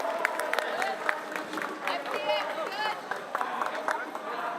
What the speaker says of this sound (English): A big round of applause for Audaces,